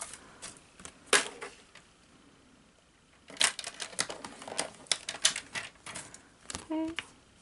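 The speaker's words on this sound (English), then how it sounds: "This one has a little bit more, so I will cut a little bit more of the edges" Scissors trim the edges of a laminating sheet, giving sharp crisp snips in scattered bursts, a few isolated cuts followed by a quicker run of clipping and crinkling plastic, close up and fairly quiet.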